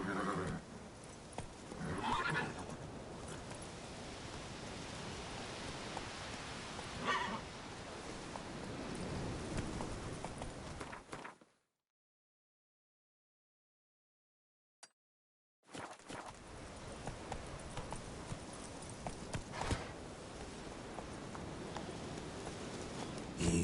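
Horse hooves of Roach, a mount in the video game The Witcher 3, clip-clopping steadily with occasional neighs, cutting to silence midway before the trotting and galloping resume.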